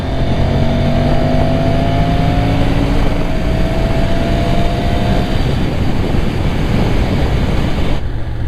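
A car engine drones loudly and steadily while driving as another vehicle overtakes, with a rising then falling pitch sweeping past over constant road and wind roar; no voices.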